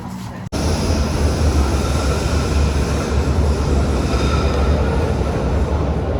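Steady low rumble and rattle of a moving train in Hanover, Germany, heard from inside a carriage, continuous and fairly loud, with a brief dip at the start.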